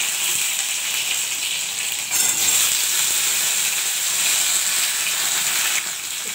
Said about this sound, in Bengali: গাঁটিটাকে আগে ভেজে নেব